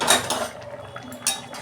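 A lid is lifted off a pot of fish curry cooked with mango and potato, giving a couple of short metallic clinks and scrapes near the mic, with a quieter pause between them.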